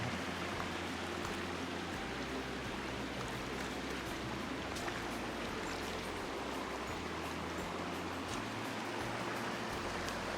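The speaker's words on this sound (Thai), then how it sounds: "เป็นทางน้ำไหลนะครับลงมา" A small freshwater stream flows downhill in South Korea, a constant close burbling and trickling wash that holds steady from start to finish with no voices.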